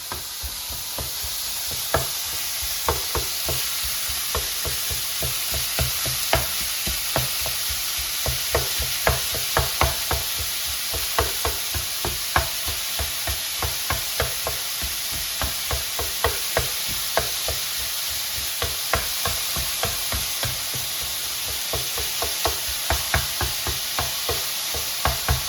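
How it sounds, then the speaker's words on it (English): Steady, close sizzling of ground beef frying in a pan, with frequent sharp clicks and scrapes of stirring throughout, no talking. "So now this beef is sizzling in a frying pan"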